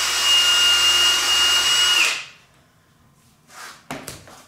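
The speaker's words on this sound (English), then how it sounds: "So we're going to be screwing this." A power drill drives screws into pipe organ woodwork, a loud steady whirring for about two seconds that stops abruptly, followed by a few sharp knocks and clicks.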